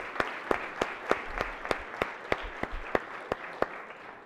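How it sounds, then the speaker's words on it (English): Scattered applause in a state Senate chamber for the Speaker Emeritus, a handful of sharp, separate claps spaced through the clip over a quiet room, fairly sparse and moderately faint rather than a full ovation. "we could give Speaker Emeritus Jones another round of applause"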